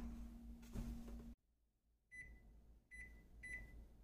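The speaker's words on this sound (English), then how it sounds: "Microwave it for 2 minutes." A microwave oven runs with a low hum while heating an ear of corn, then goes quiet before a series of three short beeps sounds out.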